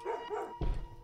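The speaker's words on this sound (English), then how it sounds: "Dog." A single short dog bark, fairly faint, preceded by a brief whiny yip; no one speaks.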